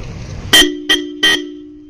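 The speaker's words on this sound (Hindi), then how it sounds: "कंप्लीट ट्रेन वाला हॉर्न है भाई" Three loud, brassy blasts from a train-style horn fitted to a Royal Enfield Classic 500 motorcycle, close by, a long one followed by two shorter toots, with a low steady drone underneath.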